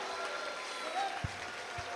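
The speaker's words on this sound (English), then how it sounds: "another big round of applause for these two warriors" A large crowd at a boxing event applauds in a steady, distant wash of clapping, with a couple of low thumps and faint voices mixed underneath.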